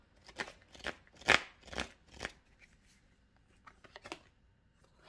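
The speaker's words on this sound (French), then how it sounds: "Je retire une carte sur arrêt stop pour voir." Tarot cards are shuffled in several soft, quick riffling bursts, close but quiet, then taper off into near silence with a faint final flick.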